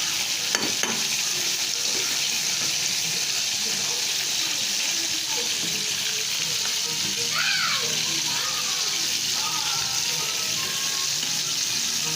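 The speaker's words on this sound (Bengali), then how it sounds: "তেল গরম হওয়ার পর সামান্য একটু লবণ যাতে লেগে না যায় দিয়ে দেবো মাংস" Meat sizzling steadily in hot oil in a home kitchen pan, a continuous crackling fry heard close up, with occasional stirring and no talk.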